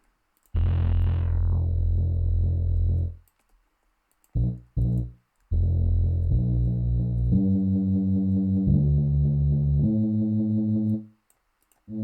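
A Reese bass synth patch from a StemCellz plugin playing a sequence of loud, buzzy, distorted sustained notes that step through different pitches, with brief gaps and stabs between them and no voice.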